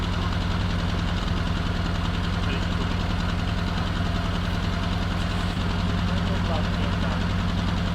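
A Jeep M38A1 engine idles steadily and fairly loudly close by, with an even mechanical throb and knocking texture running throughout while the idle is adjusted.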